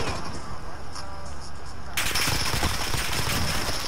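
Rapid automatic gunfire from a weapon in Call of Duty: Modern Warfare multiplayer, bursting in loud and dense after a quieter stretch and continuing steadily to the end.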